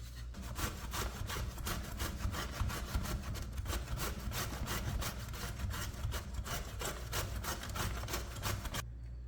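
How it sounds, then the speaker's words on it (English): Zucchini grated by hand for zucchini bread, giving close, steady rhythmic rasping strokes with no pause until just before the end. "So right now we are going to grate the zucchinis."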